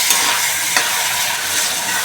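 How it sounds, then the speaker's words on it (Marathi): Tomatoes sautéed with softened onions in a pan for Karnataka-style girmit, a steady close sizzle with a brief scrape of stirring near the middle, no voices. "आता आपण टोमॅटो घालूया याच्यामध्ये. आता जरा परतून घेऊया आपण."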